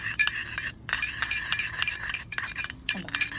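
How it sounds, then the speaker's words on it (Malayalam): A spoon stirs a homemade aloe vera gel cream in a small container, making close, soft, wet scraping and squelching sounds in quick repeated strokes with a couple of short pauses. "ഇനി നല്ല പോലെ ഇത് മിക്സ് ആക്കാം"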